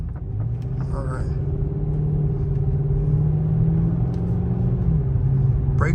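A 2013 Dodge Charger R/T AWD with Powerstop Z26 performance brakes runs a braking test, its steady engine and road rumble droning loudly inside the cabin as the pitch eases slightly, with brief faint clicks.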